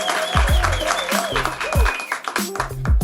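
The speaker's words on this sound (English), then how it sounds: "they also need a round of applause" A studio audience at a divorce-themed reunion talk show applauds, with claps rising and falling around a presenter's continuing voice.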